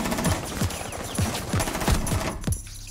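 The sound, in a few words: gunfire in the Rainbow Six video game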